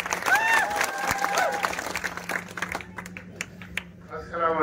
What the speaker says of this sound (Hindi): जोरदार तालियां हाजी अख्तर के लिए